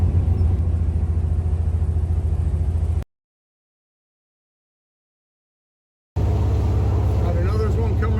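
A car engine with a knocking fault runs loud and steady in a garage, cuts to silence for about three seconds, then resumes with people talking faintly over the rumble.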